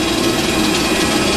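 After landing at Chiang Rai, an airplane engine runs loudly and steadily on the ground, producing a dense, unbroken roar with a harsh, buzzing edge.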